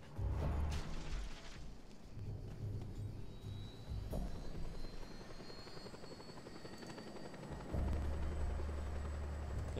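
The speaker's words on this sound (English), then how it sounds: "Surely I'm just going to go with like a helicopter here." Helicopter in the video game Just Cause 2, a steady loud rotor thrum running throughout with low pulsing beats that surge louder near the end, alongside a rising whine.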